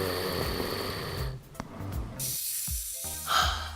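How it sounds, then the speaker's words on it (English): A sleeping person snores in rough, rattling breaths, several irregular snorts and inhalations close by, with brief pauses between them. "Snoring is a noisy, rattling sound occurring during sleep."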